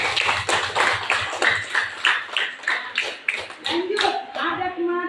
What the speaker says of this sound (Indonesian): Beri dulu aplaus untuk temannya.